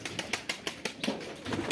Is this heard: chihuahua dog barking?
no